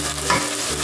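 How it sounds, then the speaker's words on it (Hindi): Minced meat (keema) with turmeric and garlic-ginger paste frying in a pan while being stirred, a brief close burst of crackling sizzle with a scraping stir, no voices. "अब हम इसको अच्छी तरह से भून लेंगे।"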